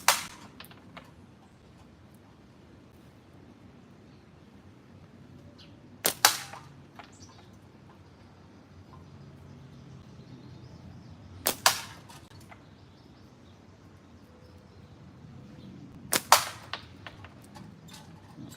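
Three sharp slingshot shots striking a can, each a crisp isolated crack spaced several seconds apart against a quiet outdoor background.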